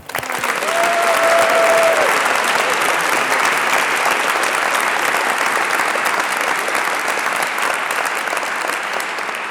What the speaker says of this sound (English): Let's give a round of applause to all the outstanding projects we've heard about